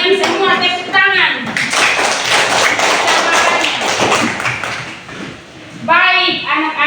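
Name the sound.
children clapping in a classroom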